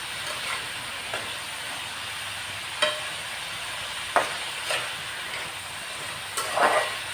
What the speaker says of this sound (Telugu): అవన్నీ బాగా వేగాలండి